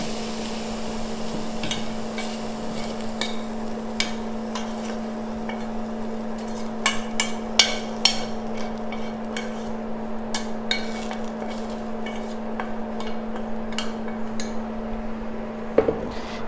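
Onion seared in a frying pan for bolognese sauce is stirred with scattered metallic clicks and scrapes, over a faint sizzle and a steady low electrical hum, with no voices.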